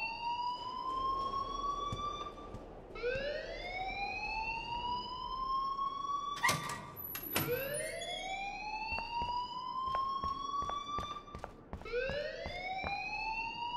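A school alarm in the video game Life is Strange wails in repeated rising electronic sweeps, steady and continuous with a few sharp clicks between cycles, no voices.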